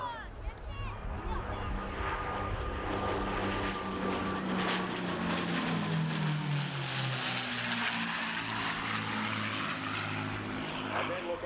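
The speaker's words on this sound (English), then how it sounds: "Here they come from your left to your right in formation, a high-speed pass, pushing it right up close to 400 miles an hour." Propeller fighter planes of the Four Horsemen team make a high-speed formation pass near 400 mph at the 1995 Sussex Airshow. Their loud engine roar swells and drops in pitch as they sweep past, with a voice faintly under it.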